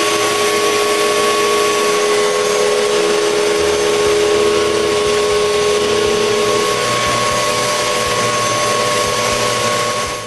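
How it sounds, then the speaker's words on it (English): A power sander works over the surfaces of a birch wood frame, giving a loud, steady, continuous whirring drone for the whole stretch, close by and with no voices. "Then, it's time to sand all the surfaces of the frame."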